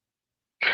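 A single short sneeze or sneeze-like burst from a man, heard alone at the very end after silence, close and fairly loud.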